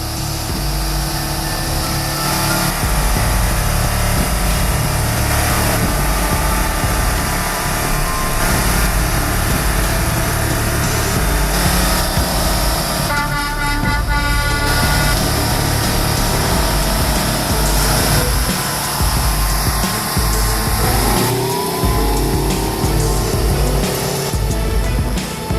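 A heavy M1070 truck engine drones and revs continuously as it slips in mud, a loud, sustained roar that surges and dips with the throttle throughout.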